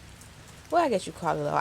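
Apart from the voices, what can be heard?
rain falling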